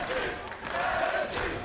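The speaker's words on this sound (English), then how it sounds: "You can hear the crowd." Esports arena crowd at a League of Legends EU LCS match between Origen and Splyce roars in a loud, sustained cheer that swells and dips slightly, filling the whole moment.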